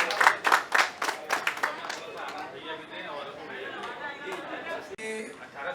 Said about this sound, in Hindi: गुजारिश करूंगा डॉक्टर साहब के लिए एक जोरदार तालियां हो जाए.